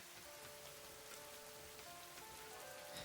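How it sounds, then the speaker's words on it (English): Rain falling in the video game Scrap Mechanic: a faint, steady hiss of rainfall with scattered drop patter, plus soft tonal game sounds underneath. "I'm glad that the rain isn't just like a flat animation on the screen."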